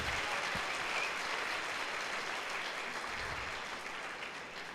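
A congregation at a Sunday church service applauds, a dense, steady wash of many hands clapping together, heard from a distance and fairly quiet, lasting the full five seconds without a break.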